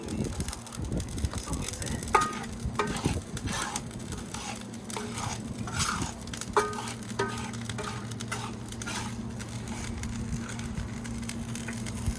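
Salt scraped and stirred in a steel sadj pan over a campfire to burn it in, a gritty, crackly scratching with irregular bursts over a low steady hum, no talking.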